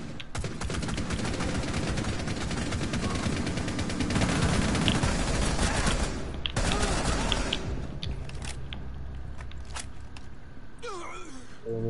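Gunfire in a video game, rapid bursts of automatic shots and overlapping fusillades that stay loud through the first half, then thin out into scattered shots and mechanical clatter.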